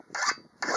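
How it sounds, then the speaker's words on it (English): A metal file rasps across a forged utility knife blade in two quick, harsh strokes, close and fairly loud, separated by a brief gap. "take it down to the file."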